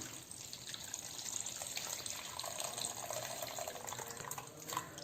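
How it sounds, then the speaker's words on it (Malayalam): Quiet running water trickling and splashing steadily, like water being poured into a bowl of soaked tamarind, close and continuous. "കുറച്ച് വെള്ളം കൂടെ ചേർത്തിട്ട് നമുക്കൊന്നുകൂടെ പിഴിഞ്ഞൊഴിക്കാം"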